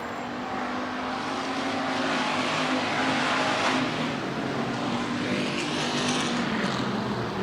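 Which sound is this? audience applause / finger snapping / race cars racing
race cars racing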